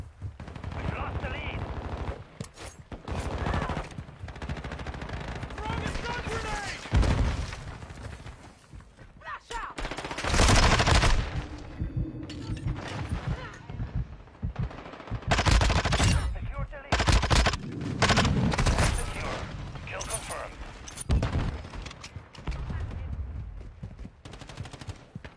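Rapid gunfire aimed at two targets, with bursts of loud sharp shots and machine-gun-like volleys coming in clusters over about twenty-five seconds, separated by quieter gaps, with voices talking in between.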